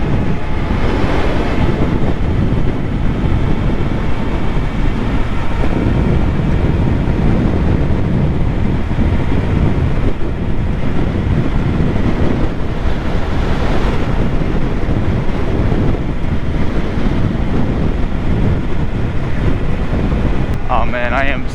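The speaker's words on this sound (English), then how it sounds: "it is massively windy out here" Strong gusting wind roars loudly and continuously across the microphone while riding an electric bobber motorbike (Sur-Ron), a dense, buffeting rumble that drowns out most else throughout.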